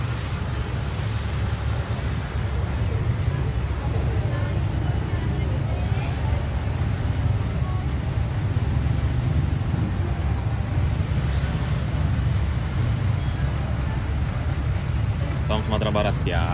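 Dense street traffic in Malaysia with many motorbikes, a steady close wash of engine rumble and road noise throughout, with voices talking over it.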